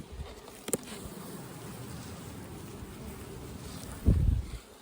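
Honey bees buzzing around a hive in a bee yard: a soft, continuous drone of many insects, with a sharp click early on and a brief rumble of wind or handling near the end.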